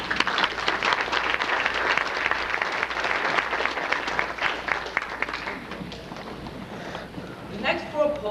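Dense applause from a crowd at a poetry show fills the first several seconds, then thins out and fades as a few voices come through near the end.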